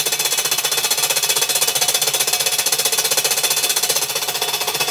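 An iron plate scrapes across the unprotected paint of a Mazda Miata, producing a loud, harsh, high-pitched grating buzz with rapid, steady rhythmic pulses that continue unbroken and close-up, with no voices.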